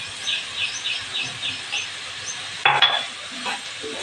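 Onions sautéing with a pinch of salt in a pan while fenugreek greens are cooked, a soft steady sizzle with light stirring and a brief louder clatter of the utensil near the end.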